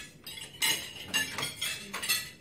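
Metal fork and knife clinking against a plate while cutting food, a few quiet, distinct chinks and scrapes spaced irregularly, close and delicate.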